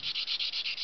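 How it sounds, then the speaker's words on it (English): Horsetail reed rubbed as sandpaper across balsa wood, seven quick even scratching strokes in a steady rhythm, close and fairly quiet with no voices. "Maybe it's like finished sanding on the balsa wood."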